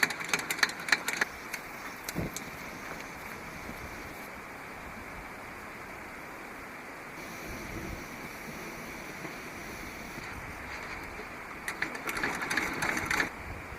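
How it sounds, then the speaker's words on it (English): Pumping a classic dual-fuel burner camp stove outdoors produces a steady, even mechanical rasp with a faint rhythmic churn that runs unbroken for the whole stretch. A few sharper knocks land near the start and end, and there is no talk. "The thing about these classic dual fuel burners is you gotta pump them."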